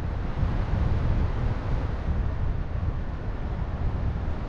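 Steady west wind blowing across the western slope of Mount Demerdzhi in the Valley of Ghosts, a constant low rumbling buffet on the microphone with no pauses, loud and close throughout.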